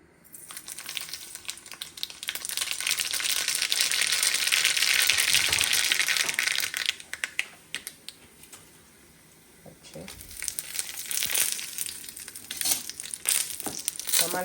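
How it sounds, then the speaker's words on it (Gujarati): Spices are tempered in hot oil for simple dal, bursting into a loud crackling sizzle that fades, then spits and pops again in sharp bursts, with a voice talking over it. "જો સિમ્પલ દાળ વઘારવામાં આવશે"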